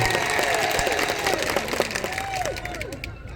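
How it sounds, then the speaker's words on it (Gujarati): A crowd at a political speaking event in Kavant taluka claps steadily to welcome a speaker, a continuous moderate wash of applause with a voice carrying over it and some scattered noise. "આપણે એમને જોરદાર તાળીઓના ગણગણાટથી એમનું સ્વાગત કરી રહ્યું"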